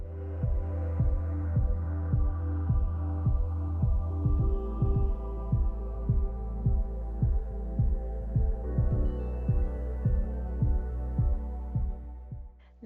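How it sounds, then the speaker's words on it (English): A sewing machine bastes pinned fabric edges with a steady motor hum and even, rhythmic stitching thumps that run for about thirteen seconds. "Now we will baste those 3 edges that we just pinned."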